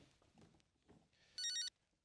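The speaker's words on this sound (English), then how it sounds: "Hold on, my phone is ringing." A shrill electronic phone ring sounds once in a short trilling burst, loud and close, after a few faint murmurs.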